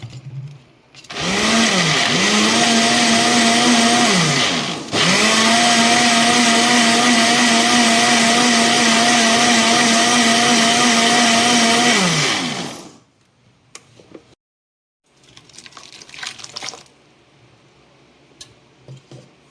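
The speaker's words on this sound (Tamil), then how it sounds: "இப்போ மிக்சியில் போட்டு" A mixer grinder churns cream with ice and chilled water to make butter, whirring loudly and steadily for about twelve seconds with a brief dip partway through, then stopping abruptly and leaving faint handling noises.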